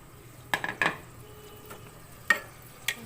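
Rice stirred in a cooking pot, heard as a few sharp metallic clinks and scrapes of a utensil against the pot, spaced apart over quiet background.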